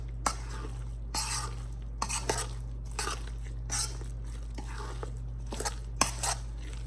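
Corn kernels stirred into corn muffin batter in a bowl, giving soft wet scraping strokes with occasional sharper clicks of the spoon, close and fairly quiet over a steady low hum.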